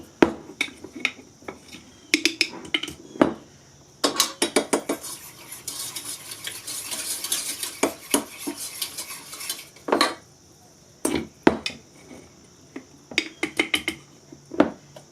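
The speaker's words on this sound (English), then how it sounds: "we have to stir it real brisk. We don't want lumps of cornstarch" A cornstarch mixture briskly stirred for a traditional Mennonite dessert, rapid bursts of a utensil scraping and clinking against the pot, near and loud with short pauses, no talk.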